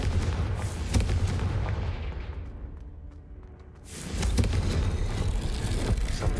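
Confringo fire-blast spell in Hogwarts Legacy, a loud booming blast with a whooshing roar that fades out, then surges back into sustained rumbling combat noise.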